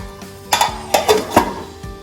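A metal lid clatters onto a pot of ridge gourd and prawn curry, with three or four sharp clinks spaced close together as it is set and adjusted, fairly near and clear.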